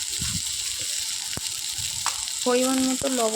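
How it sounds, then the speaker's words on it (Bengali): Onions fry in a pan with a steady sizzle, broken by a few sharp clinks of a utensil against the pan and a brief stretch of tonal voice-like sound near the end. "তো দেখো পেঁয়াজটাও আমার ভাজা ভাজা হয়ে গিয়েছে"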